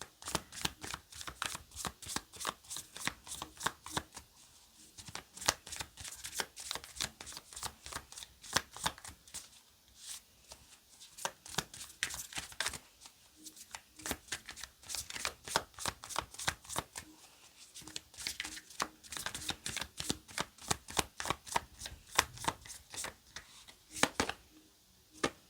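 Tarot-style cards are shuffled continuously in rapid, crisp riffling and slapping strokes, close and steady throughout with brief pauses between bursts.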